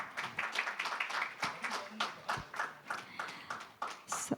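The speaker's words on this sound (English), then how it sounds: "I want the loudest applause for Mr. Murali Mohan Rao Manduva" A conference audience claps for a bank CTO on a speaker panel, producing scattered, moderately faint applause with distinct individual hand claps in an uneven rhythm.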